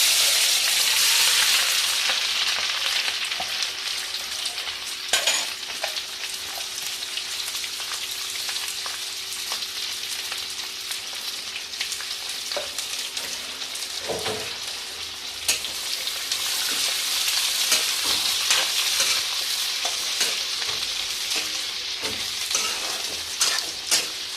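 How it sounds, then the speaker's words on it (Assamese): Onions for a duck recipe fry in a hot pan, giving a steady, close sizzle, with occasional scrapes of stirring running through it and no voices. "মই পিঁয়াজটো ৰঙচুৱা হোৱালৈকে ভাজিম"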